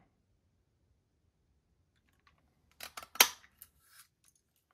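Scissors snip a scrap strip of paper for a wreath craft, a quick cluster of sharp close cuts and crisp clicks in a quiet room, followed by a couple of softer ticks.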